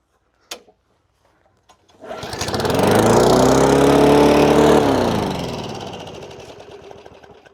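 A Briggs and Stratton lawn mower engine with a newly replaced plastic carburetor starts after a short pull and runs loudly and steadily for several seconds, then its pitch dips slightly as it settles.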